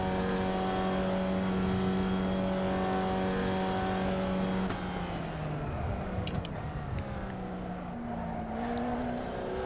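A Formula Vee race car engine in the iRacing simulator at Summit Point Raceway drones loudly at high revs, then shifts and settles to a lower, changing pitch as the car continues, with no talk over it.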